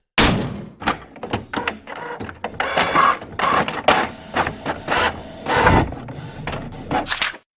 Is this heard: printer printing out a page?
yes